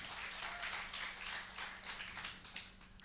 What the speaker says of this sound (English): Give a big applause to Jesus.